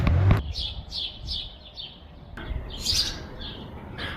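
Birds calling for food give a rapid series of bright, repeated chirps, then a louder squawking burst follows, close and clear over a quiet background.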